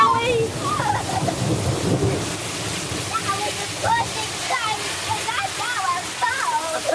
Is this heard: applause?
no